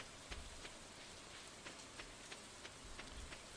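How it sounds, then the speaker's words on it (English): Rain patters on a trailer's metal roof in Stardew Valley, a faint, steady hiss broken by scattered soft taps of individual drops, with no voices. "Raindrops are really loud and metal roof on your trailer."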